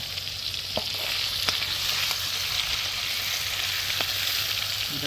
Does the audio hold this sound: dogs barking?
no